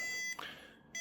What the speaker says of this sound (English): Beep sound, yes.